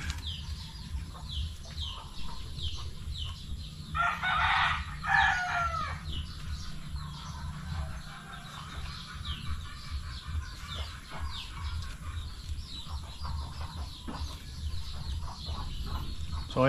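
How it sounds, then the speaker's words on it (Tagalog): Rooster crowing and hens clucking from a neighboring yard, with one prominent crow rising partway through over continuous scattered clucks and a low steady background hum, heard from moderate distance. "Medyo maingay yung manok sa kabilang bahay."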